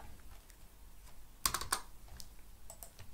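Keys clatter on a computer keyboard as code is typed, a quiet run of light taps that breaks into a brief, louder burst of quick keystrokes midway, with no voices.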